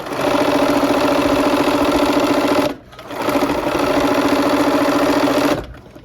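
A sewing machine stitching a quilt block runs in two loud, steady bursts of rapid mechanical whirring, with a brief pause between them and then a stop near the end.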